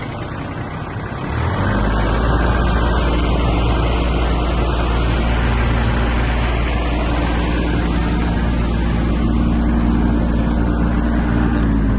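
Steady, loud engine drone of an Iseki TK-25 Japanese mini tractor running with its PTO shaft and mower blades turning, starting low then holding a constant raised rev for the rest.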